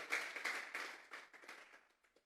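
A church congregation gives God an offering of applause, with faint, scattered handclaps that fade out over a couple of seconds.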